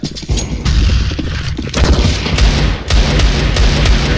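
A grenade explodes in a Counter-Strike: Global Offensive matchmaking game, a loud booming blast amid heavy gunfire, with sharp bursts and crashes spread through the stretch.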